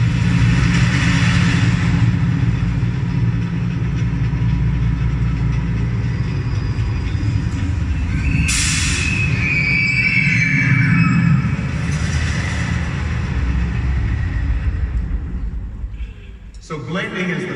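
An industrial elevator descends through a manufacturing facility toward the blending floor, a steady low mechanical rumble and hum with a brief chime-like tone midway and a clunk near the end, under continuous talking.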